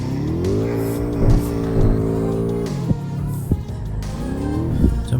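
A BMW M5 F10 V8 in the Assetto Corsa racing game drones steadily, its revs rising and falling as it shifts through gears, with brief thumps and faint tire noise along the way.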